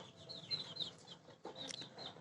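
Two-month-old chickens give faint, scattered clucks and chirps, with a brief burst of calls partway through.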